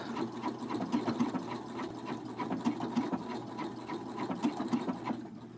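A sewing machine stitches fabric in a steady rapid mechanical whir with rhythmic pulsing, close and continuous, with no talking.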